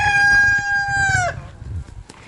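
A farm rooster's crow, loud and near, ends a single sustained call, then fades into low clucking and yard noise among the chickens.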